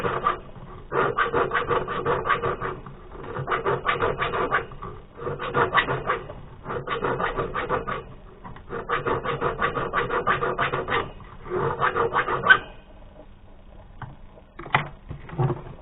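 A bastard file deburring the edge of a handmade copper ring in repeated rasping bursts of about a second each, a steady stroking rhythm up close, then a pause with a few light knocks near the end.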